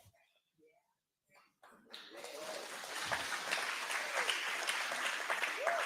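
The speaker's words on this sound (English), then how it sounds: "They're clapping for that?" An audience claps steadily, a dense, sustained applause that begins faintly and swells after a quiet opening, then holds at a moderate level.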